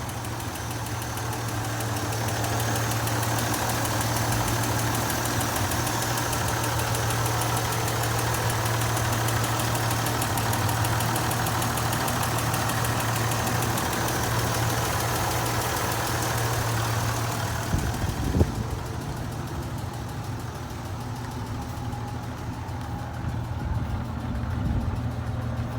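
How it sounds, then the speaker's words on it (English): A 1971 Chevrolet C10 short bed pickup with performance upgrades sits running, its engine idling steadily with a low, rumbling hum for the whole stretch; a brief clunk or rev blip comes near the end. "And I will start the engine and show you that."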